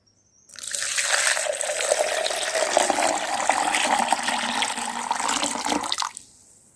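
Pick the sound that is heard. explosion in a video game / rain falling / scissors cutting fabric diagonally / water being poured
water being poured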